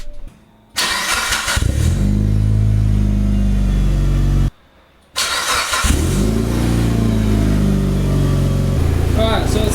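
A car fitted with an Invidia dump pipe and front pipe starts up twice, each time catching into a loud, rumbling idle close by, with a short silent gap between the two runs.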